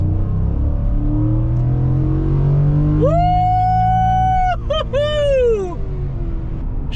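A Ford F150 pickup's 5.0L Coyote V8 is revved toward high RPM. The engine note climbs and holds steady for a couple of seconds, blips sharply twice and then falls away, loud over a low idle rumble.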